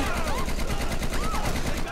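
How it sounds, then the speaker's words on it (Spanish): Rapid automatic gunfire rattles continuously in a GTA 5 shootout, loud and close, with a dense stream of shots and whining tones over it for about two seconds before cutting off. "hemos llegado y nos hemos liado a tiros hasta matar a todo el mundo"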